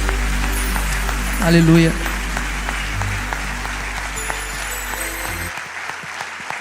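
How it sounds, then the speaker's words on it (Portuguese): A church congregation applauds during a thanksgiving service held in memory of a pastor, sustained clapping over a low droning musical backdrop, with a voice calling out and the sound cutting off abruptly near the end. "Queria te convidar a aplaudir Jesus nesse momento."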